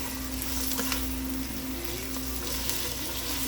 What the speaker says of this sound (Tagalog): Igigisa na natin kasama sa sibuyas at bawang.